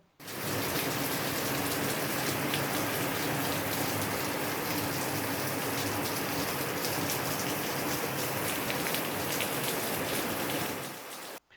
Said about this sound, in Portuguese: Veja a chuva desta manhã em Bossoroca.